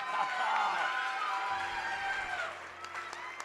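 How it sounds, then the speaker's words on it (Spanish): A live crowd at a singing competition semi-final cheers and claps for a contestant, a steady wash of applause and voices from the audience at moderate volume. "Vamos a darle un fuerte aplauso a nuestro primer participante, al señor Esteban Orquera."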